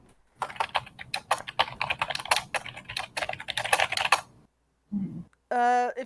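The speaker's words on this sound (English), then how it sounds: "If you're gonna type, can you please mute?" Computer keyboard typing carries over a call in a rapid, close clatter of keystrokes lasting about four seconds, then a short pause and a brief voice at the end.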